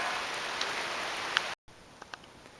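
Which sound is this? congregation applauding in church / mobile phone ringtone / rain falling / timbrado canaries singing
rain falling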